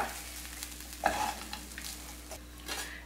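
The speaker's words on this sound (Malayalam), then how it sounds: "മുഴുവനായിട്ട് ചേർത്തിട്ട് നമുക്ക് മിക്സ് ചെയ്ത് കൊടുക്കാം" Soya chunks rice is stirred in a pan, a spoon scraping and turning the grains with soft sizzling beneath and a few louder knocks against the metal.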